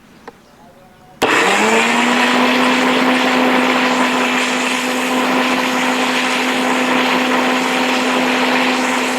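A kitchen mixer grinder blending ABC juice (apple, beetroot, carrot) kicks on abruptly and holds a loud, steady motor whine with a churning liquid roar for the rest of the stretch, close and alone.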